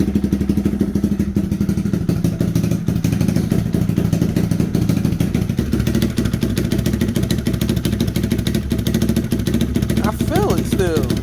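A Lifan KP Mini 300 motorcycle engine with a custom exhaust idles roughly, a loud steady low chugging throb that runs throughout, while a voice talks over it.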